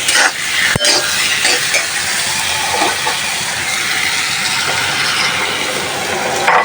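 Spice paste fries in a hot pan while being stirred, a loud, steady, close sizzle with occasional scraping strokes and one sharp tap near the start.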